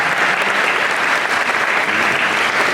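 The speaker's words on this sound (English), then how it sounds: "All right, give it up for Boneyard Effects." Crowd at a Halloween Horror Nights behind-the-scenes event giving applause for Boneyard Effects, a dense, even wash of clapping that stays loud and continuous throughout.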